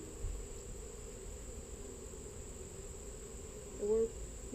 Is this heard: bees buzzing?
yes